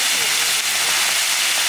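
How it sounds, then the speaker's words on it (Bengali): Tawa chicken sizzles in hot oil on a griddle, a dense, steady close-up hiss with no breaks. "হ্যাঁ আমরা তাওয়া চিকেনটা এখন ভাজিয়ে নেব"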